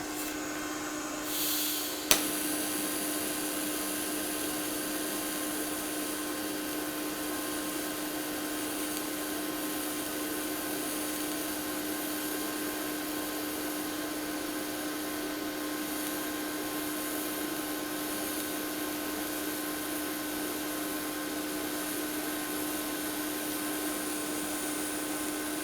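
A budget TIG welder runs at 66 amps, giving a steady, unbroken electric buzz and hiss that holds level for the whole stretch after a brief click at the start.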